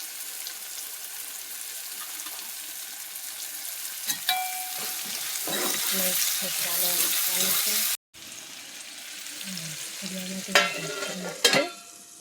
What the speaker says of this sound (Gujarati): મરચાં મરચાં કટ કરીને મૂક્યા અત્યારે એમાં તળવાના